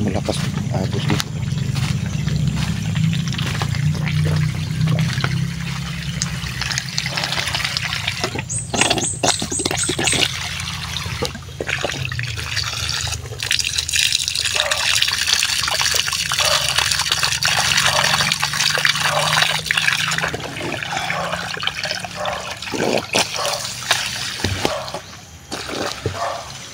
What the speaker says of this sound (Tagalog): Medyo malakas agos dito.